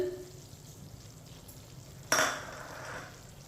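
Gram flour is stirred into semolina cooking in a pan for suji halwa, making a soft, steady frying hiss with a sudden loud scrape of the spoon partway through.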